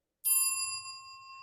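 A single bright notification bell ding rings out cleanly and alone, then sustains and slowly fades.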